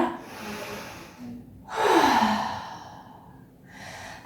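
A deep yoga breath in during a core session, drawn audibly through the nose after a short sigh, followed by a softer exhale, close and clear with no talking.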